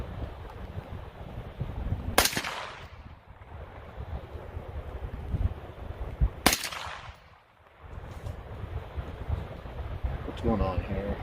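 Two sharp rifle shots at a cardboard target ring out several seconds apart outdoors, each a loud crack trailing into echo, over steady wind noise and a voice talking.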